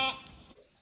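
A single short sheep bleat, close and fairly loud, from sheep waiting to be shorn, fading quickly into quiet.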